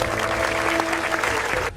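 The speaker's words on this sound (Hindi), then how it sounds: "सन्नाटा एक जोरदार तालियों की गड़गड़ाहट में बदल गया" Loud, steady applause from a crowd at a wedding announcement involving the Indian Army, a dense clapping wash running for nearly two seconds with a sustained tonal hum beneath and a slight drop at the very end.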